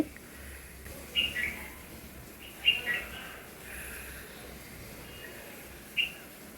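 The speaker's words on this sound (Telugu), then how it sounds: "ఇక్కడ పక్షులు అరుస్తాయి చూడండి వినండి" A few short bird chirps ring out over a quiet outdoor background, spaced a second or two apart, clear but moderately distant.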